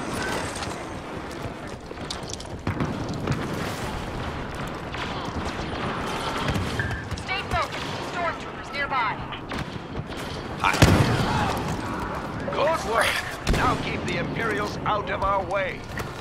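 Rocket launcher blasts and heavy thuds in the video game Star Wars Battlefront, on the Bespin map, with booming explosions and rumbling impacts amid battle noise, a player talking over much of it.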